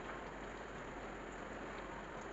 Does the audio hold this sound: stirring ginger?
no